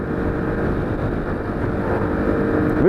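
Honda CT110 motorcycle engine pulling steadily while riding, a continuous close buzzing drone with wind rush that rises slightly in loudness toward the end.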